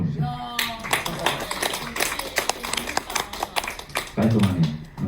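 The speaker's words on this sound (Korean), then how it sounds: "박수 한번 주세요." Several sharp hand claps break out amid lively conversation, short and irregular, mixed in with talking voices.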